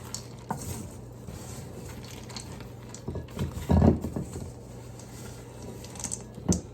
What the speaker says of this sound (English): I'm gonna see if I can stir this around really for a second here.